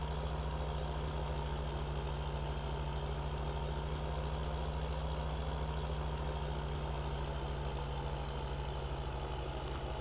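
Truck engine in the Farming Simulator 2013 video game hums at a constant, even drone with a low rumble, steady and unchanging the whole time with no voices.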